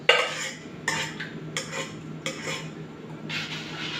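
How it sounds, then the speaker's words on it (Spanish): A spoon breaks up and stirs thickened homemade peach yogurt curd in a bowl, giving several clinking knocks against the dish with soft wet scraping between them, close and clear with no talk. "Vamos a romper el cuajo."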